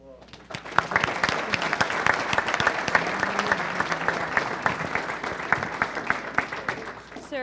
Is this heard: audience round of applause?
yes